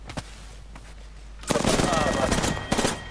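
Rapid automatic gunfire from a shooter video game erupts loudly about halfway through and continues in dense bursts, with talk over it and quieter single shots before.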